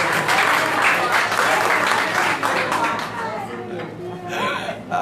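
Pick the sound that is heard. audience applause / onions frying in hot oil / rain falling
audience applause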